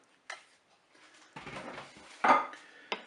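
Potato pieces tumble into a Cookeo multicooker pot and get stirred, giving a few scattered knocks and one louder scrape against the metal with short gaps of quiet between them.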